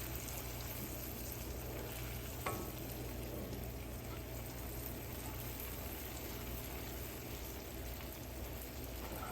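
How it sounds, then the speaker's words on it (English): Butter being stirred into a hot pan during home dairy cooking. A continuous, even sizzle like light rain goes on throughout, with one brief clink and no talking. "of butter and just stir that around, get it incorporated. It will splatter a little bit if you're not careful."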